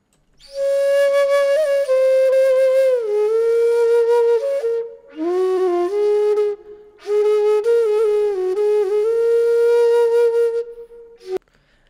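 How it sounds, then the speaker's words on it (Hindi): A breathy flute plays a slow, sustained melody in several long phrases separated by short pauses, clear and close with little background noise. "एक बार यहां से फ्लूट सुनते हैं क्या सही सुनाई दे रही है"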